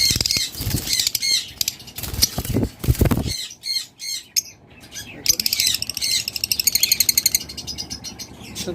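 A DNA-sexed breeding pair of caged birds for sale chirps and squawks in quick repeated bursts alongside rustling and fluttering, close and fairly loud, with a few heavy knocks early on.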